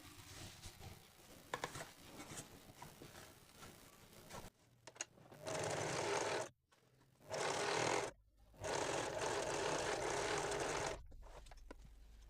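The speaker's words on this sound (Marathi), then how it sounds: "पाव इंच सिलाई देऊन इथे आपण जोडून घेऊयात" A sewing machine stitches a double-folded fabric strip onto a blouse front, running in long loud steady whirring bursts broken by brief stops, after a stretch of quieter handling noise, with no talking.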